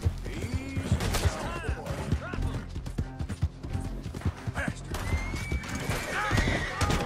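A horse whinnies in the video game Red Dead Redemption 2, with clattering hoofbeats and clanking gear close by, all under a voice talking.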